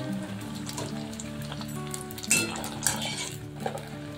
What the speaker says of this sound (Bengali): ফুচকাগুলোকে ভাজতে হবে একদম হাই ফ্লেমে